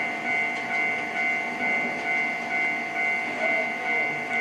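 A train in the Trainz 12 video game runs along the track with a steady engine drone, tonal hum and a faint rhythmic pulsing of wheels over rail joints.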